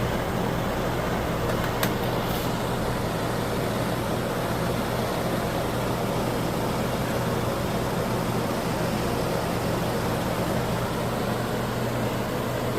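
Finnmark ductless RV air conditioner with heat, its fan running as a steady, even broadband whoosh with a low mechanical hum, constant and unbroken throughout, close by with no talk.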